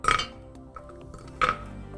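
Veal bones dropped into a tall stock pot, two distinct clinking knocks about a second and a half apart, close and alone, with faint small rattles between them.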